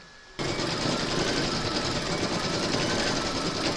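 An embroidery sewing machine stitches an outline on a burp cloth, a loud, fast, even needle chatter that starts abruptly and runs steadily, close up and with no voices.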